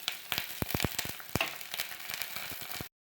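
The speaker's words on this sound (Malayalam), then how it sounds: "ഉള്ളിയും വെളുത്തുള്ളിയും കറിവേപ്പിലൊക്കെ മൂത്ത് വന്നിട്ടുണ്ട്." Shallots, garlic and curry leaves fry in coconut oil with a steady close crackling sizzle, dotted with sharp pops and spatters throughout, and no voices.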